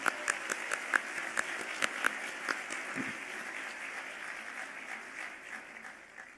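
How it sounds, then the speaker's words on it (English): Applause from the audience at an awards luncheon, starting with a few sharp, distinct claps that swell into a steady crowd of clapping and then slowly thin out and fade. "Now you can clap. Give them a hand."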